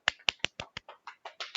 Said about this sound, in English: That was the worst round of applause ever.